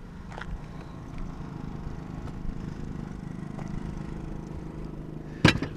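Lawn mowing somewhere in a suburban neighborhood, a steady low engine drone that stays faint and distant throughout, with a brief sharp knock near the end.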